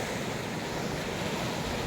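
Sea waves washing on the shore at Boobies Bay on a calm night, a steady broad wash of surf with wind noise, continuous and fairly soft, no voices.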